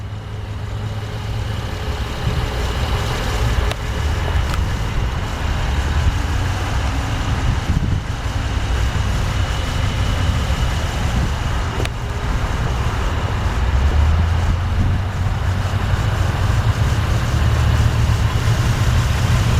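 A 2010 Acura RL idles steadily just after start-up, a low continuous engine hum with a constant rumble that stays close and even throughout, with no talking.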